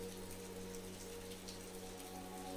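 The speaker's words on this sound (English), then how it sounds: "the heavens opened up, and rain poured down in torrents" Rain pours down in torrents onto surfaces, a continuous dense patter heard steadily throughout at a soft, even level.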